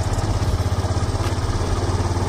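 A modified Yamaha FZS V2.0 motorcycle engine idles close by with a steady, pulsing low-pitched throb, loud and even, while being shifted into first gear.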